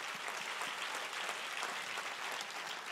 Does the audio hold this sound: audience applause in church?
yes